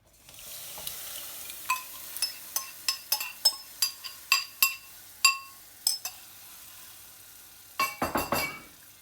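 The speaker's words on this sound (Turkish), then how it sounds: "Bunu da bir miktar karıştırıyoruz." Spoon stirring freshly added grated tomatoes in a pot with toasted flour for a milky tomato soup, a run of sharp metallic clinks and scrapes in a steady rhythm over a faint sizzle, ending in a louder scraping burst.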